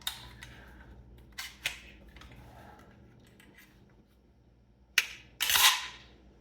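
The bolt of a welded Cetme C rifle cycling and slamming closed, a few sharp metallic clacks and snaps close by in a quiet room.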